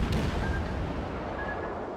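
A heavy rumbling boom from warship guns in the World of Warships naval game, a single deep blast that rolls off under a lingering low roar.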